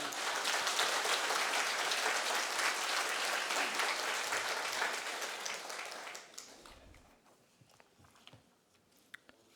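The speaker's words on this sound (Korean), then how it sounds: "박수로 함께 환영하고 격려하겠습니다." A church congregation applauding to welcome and encourage someone during a Sunday service, a dense wash of clapping that holds steady for several seconds, then fades and tapers into a few scattered claps and quiet room sound.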